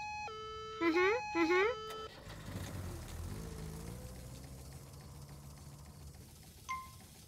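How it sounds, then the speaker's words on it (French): A siren wails in two rising sweeps, loud and near, then fades into a low rumbling bed with a faint tone near the end. "Suivons le bruit de la sirène et nous trouverons le voleur."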